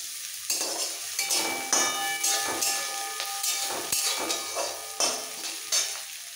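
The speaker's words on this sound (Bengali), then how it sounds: "পেঁয়াজটাকে একটু ভালো করে ভেজে নিতে হবে। আর ভাজতে ভাজতে এর মধ্যে দিয়ে দেবো 3টে কাঁচা লঙ্কা কুচি" Chopped onion and green chillies sizzle and crackle in hot oil in a pan, a steady close frying hiss with brief stirring scrapes and clinks, no voices.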